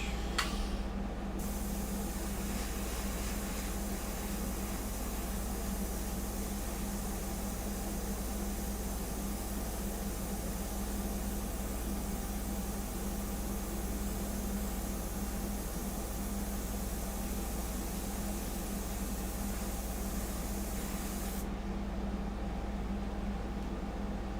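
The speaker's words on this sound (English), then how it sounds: "So basically we're just sketching with the airbrush." Steady, continuous airy hiss of an airbrush spraying without pause, fairly quiet and even throughout.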